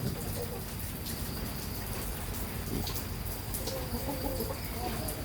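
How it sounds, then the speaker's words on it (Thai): Young roosters cluck softly now and then against a constant background hiss like falling rain, with no one speaking. "นี่ไก่หนุ่มอยู่หลายตัวอยู่ครับ แต่ยังไม่ได้จับ"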